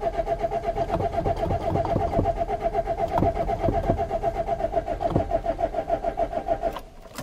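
A Renault Master 2.5D diesel L2H2 van cranks over and over in a fast, even rhythm without catching, loud and close, until the starter stops abruptly near the end.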